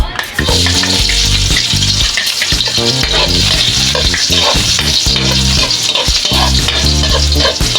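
Garlic fries in a pan for a mung bean stew, giving a loud, dense, continuous sizzle with crackling throughout and a low rumbling tone underneath.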